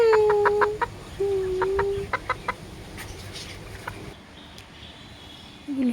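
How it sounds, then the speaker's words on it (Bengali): A rooster kept at a home clucks in a series of short, close, rhythmic calls in the opening seconds, then goes quieter, with a few more clucks and soft background noise later. "এটা হচ্ছে কক মুরগি, দেশি মুরগি না।"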